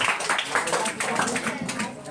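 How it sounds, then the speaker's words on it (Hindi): Children in a camp class applaud loudly for a classmate, with dense, continuous clapping that keeps up steadily throughout. "कायरा के लिए जोरदार तालियां"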